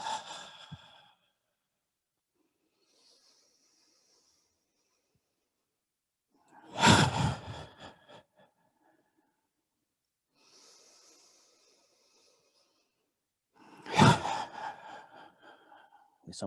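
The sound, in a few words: quick exhaling breaths during qigong shaking exercise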